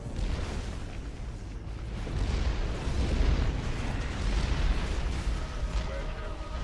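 Artillery barrage in the Halo Wars video game, a continuous dense rumble of overlapping explosions and booms that stays loud throughout, with brief game unit voice lines mixed in.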